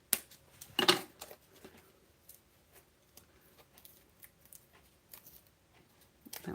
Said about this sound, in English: So let me get my snips. And we're just gonna snip a couple of rows here.